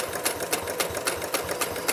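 A sewing machine stitches down the folded edge of a fabric potholder, making a fast, even, close mechanical chatter at a steady rhythm throughout.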